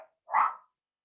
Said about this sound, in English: and my dogs decide to bark at them